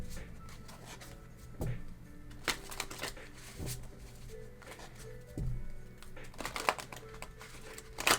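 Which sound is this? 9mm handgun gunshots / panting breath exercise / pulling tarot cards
pulling tarot cards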